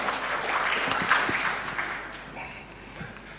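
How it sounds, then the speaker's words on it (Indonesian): An audience at an ICMI West Java gathering claps, fairly faint and thinning out over a few seconds. "Tepuk tangan buat IJMI Jabar."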